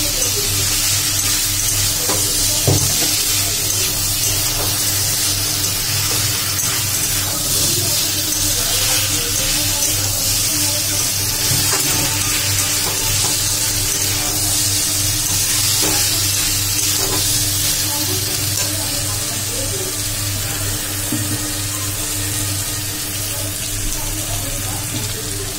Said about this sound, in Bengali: এবারে ভেজে রাখা চিংড়ি মাছটা আর আলুটা দিয়ে দেবো। দিয়ে ভালো করে